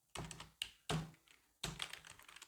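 Code typed on a computer keyboard for a Spring Boot payment webhook, a few sparse close key clacks and thumps in short clusters, quiet and with no talking.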